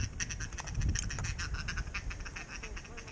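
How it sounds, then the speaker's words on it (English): Mallard ducks quack in a rapid chattering series during a duck hunt, moderately close against a quiet outdoor background. "Was that the two mallards, Cyrus?"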